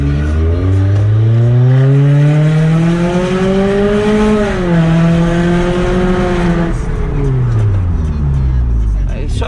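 A Toyota Corolla GLI 2.0 four-cylinder fitted with an exhaust diffuser revs up hard, its deep, full-bodied note rising, holding near, then dipping and rising again before dropping back, loud and close throughout.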